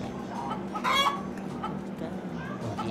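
Chicken clucks from a chicken-carrying-eggs video game, a short loud burst of fowl calls near the middle over a steady game background, with faint voices underneath.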